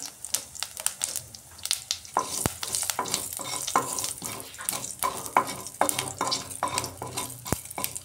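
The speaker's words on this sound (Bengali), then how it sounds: "ফোড়নে দিচ্ছি আমি সামান্য জিরা আর দিচ্ছি শুকনো লঙ্কা" Cumin seeds and dried red chillies sizzle and crackle in hot oil in a wok-style kadai, with repeated stirring knocks and scrapes over a steady close frying hiss.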